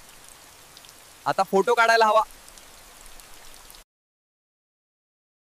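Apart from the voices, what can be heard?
rain falling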